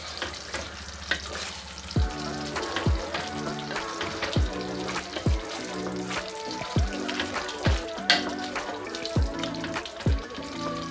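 Cluster bean (gorikayi) gravy simmers in a pan with a steady bubbling sizzle, while a spoon stirring through it makes regular scraping knocks roughly every second.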